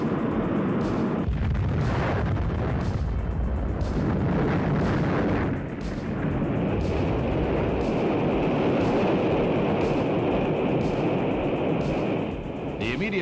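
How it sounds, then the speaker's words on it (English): Atlas-Centaur rocket exploding at about 30,000 feet after a launch malfunction: a continuous loud, rumbling roar of blast and burning with repeated booming surges, dense broadband noise throughout. "The immediate cause of the explosion is not known."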